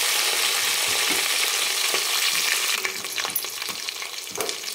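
Fresh mint leaves frying in oil in a pan, a loud steady sizzle that eases partway through as stirring begins, with scattered scraping taps of a utensil.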